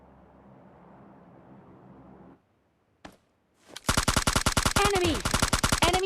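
Gunfire in a battle royale game: after a low rumbling stretch and a single sharp shot, a loud, sustained automatic burst rattles in a fast, steady rhythm until the end.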